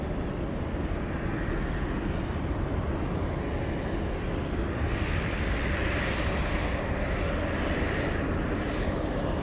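UPS cargo plane arriving from Hong Kong on landing, a broad steady engine roar that swells slightly mid-way, heard from a distance without voices.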